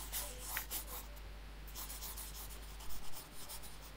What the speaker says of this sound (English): I'm just drawing the legs there.